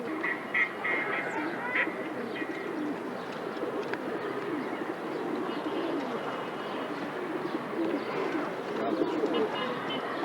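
A flock of pigeons kept by a breeder coos and flutters in a busy mix of overlapping bird calls, steady and fairly close, with faint human voices in the background.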